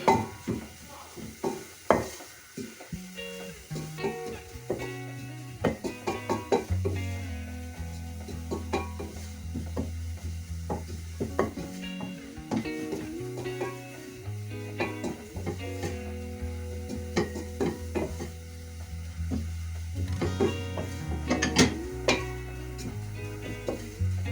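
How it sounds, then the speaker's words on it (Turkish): Flour for tripe soup being stirred and toasted in a pan, with steady scraping and soft clinks of the spoon over a continuous low background hum, close and moderately loud throughout. "unumu kavuruyorum."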